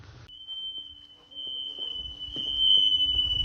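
A smoke detector gives a continuous high-pitched electronic tone that starts abruptly and holds steady. Scattered thumps and faint background noise from the room sound under it.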